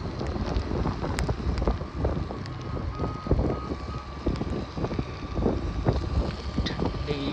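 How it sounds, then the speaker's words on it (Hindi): Cold mountain wind gusts steadily across the microphone in dense fog in the Jamgate forest, a continuous loud rumbling roar with buffeting swells throughout and no talking. "ठंडी हवा चली है पहाड़ों में"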